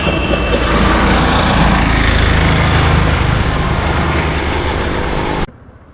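A loud, steady motorbike engine drone runs close up as it rides into a stadium in Kushtia, Bangladesh, then cuts off abruptly near the end.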